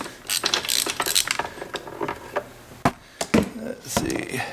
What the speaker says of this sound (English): that bolt is coming out